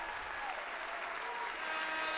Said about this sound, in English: Crowd starting to feel it.